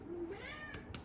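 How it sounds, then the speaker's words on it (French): A rescued alley cat gives a single short meow, then a faint second cry, fairly quiet and close in an indoor home setting. "Pauvre petit chat de ruelle."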